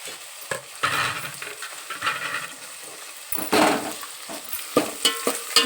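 Chopped beans and carrots frying in hot oil for rotti upma, with a steady sizzle broken by repeated loud scraping stirs against the pan, close up and with no voices.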